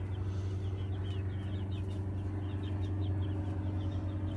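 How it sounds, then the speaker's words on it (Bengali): Small chickens on a Florida chicken farm give faint chirps and clucks over a steady low hum, distant and quiet, with no voices. "এগুলো ছোট ছোট মুরগি।"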